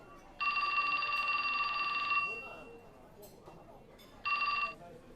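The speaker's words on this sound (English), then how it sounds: "his cell phone rang" Electronic cell phone ringtone from the video game 428: Shibuya Scramble, a loud steady trilling ring lasting about two seconds, then a second burst after a pause, over quiet background sound.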